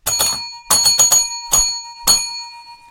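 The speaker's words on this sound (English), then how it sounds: "So I'll ring the bell" A bell rings in several quick bursts, two strikes close together, then a cluster of three or four, then two single rings. Each is loud and close, with a shimmering ring that dies away fast.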